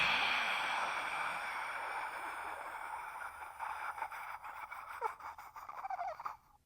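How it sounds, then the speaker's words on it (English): A long, steady exhale during a breathing exercise for multiple sclerosis symptom management, a breathy airy rush that fades slowly over several seconds and is heard alone, close up. "And exhale."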